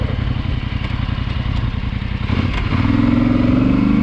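A Polaris Sportsman 850 ATV climbs small dirt mounds, its engine a loud close rumble that rises in pitch as it revs harder near the end.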